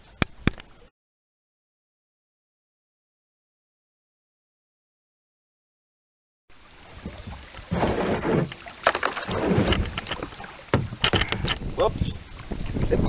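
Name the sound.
paddling a kayak on a creek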